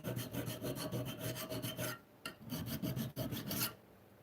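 A homemade blacksmith-forged knife being filed to remove burrs, with steady back-and-forth rasping strokes in a quick rhythm, close and loud, pausing briefly a few times before ending.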